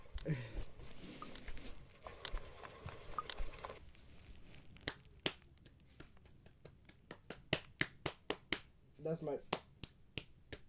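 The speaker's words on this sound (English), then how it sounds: "That's me clapping, chat" A series of sharp, sparse claps or snaps, spaced irregularly and growing more frequent, following some quiet background activity.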